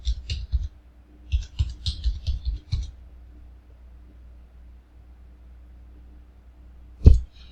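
Computer keyboard typing while ID details are entered, with a quick burst of key clicks for about three seconds, then near silence and one sharp isolated keystroke or click near the end.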